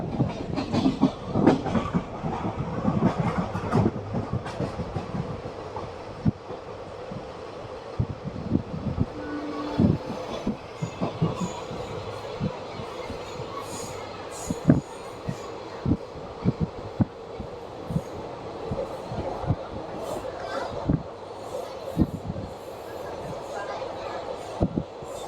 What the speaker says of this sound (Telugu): మన ట్రైన్ బయలుదేరింది